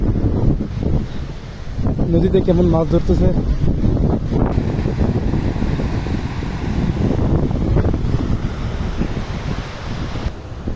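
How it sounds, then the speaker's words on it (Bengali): Strong wind buffets the microphone on a riverbank where fish are being caught, a constant heavy roar running the whole way with moving water beneath it, while someone talks over it. "নদীর পারে প্রচুর বাতাস"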